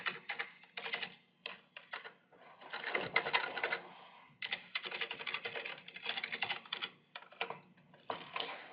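Rapid clicking of a computer keyboard while coding CSS for a login form, close and steady in uneven bursts of keystrokes with short pauses between words, no talking.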